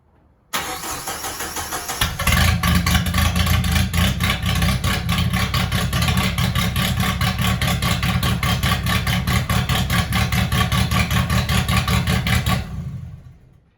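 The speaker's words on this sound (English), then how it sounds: "We're gonna start it up and see if there's any rattle now" A 1995 Jeep Wrangler YJ engine, being checked for a rattle, cranks and catches, then settles into a loud, steady rumbling idle that runs on unchanged until it cuts off at the end.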